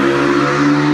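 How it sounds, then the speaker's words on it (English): Motorbike engine revving, a loud steady droning hum with strong low harmonics, close and continuous for a second with no talk over it. "We're hearing a motorbike in the background."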